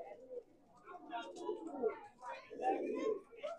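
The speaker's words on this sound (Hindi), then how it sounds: "ये मद्रासी कबूतर है भाई हो" Madrasi pigeons give soft, rolling coos, several in a row at a steady, gentle pace, heard up close and at moderate volume.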